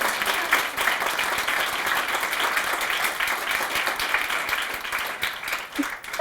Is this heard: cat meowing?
no